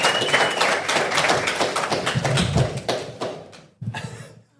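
Applause from a live show audience at the Gold Coast Tavern, a dense steady patter of clapping that fades out, then a brief short burst of claps.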